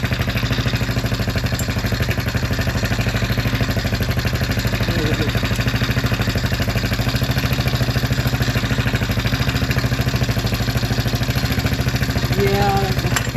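Steady close idle from a cheap Chinese ATV engine, a continuous loud mechanical putter with even rhythm and no changes in speed, running alone throughout.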